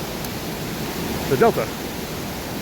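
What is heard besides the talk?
indoor waterfall at Gaylord Opryland atrium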